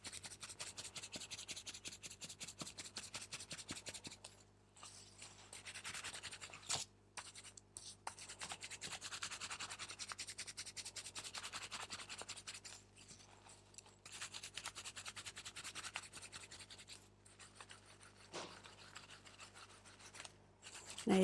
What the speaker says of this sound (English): I just go back and forth or sideways, and basically I'm just felting those cut edges